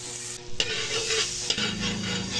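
Dairy cream sizzles steadily in a heated pan, with a couple of sharp clicks from stirring over the constant frying hiss.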